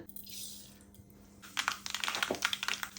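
Mustard seeds land in hot coconut oil heated for tempering a chickpea curry: a soft hiss at first, then a burst of rapid, close crackling and popping.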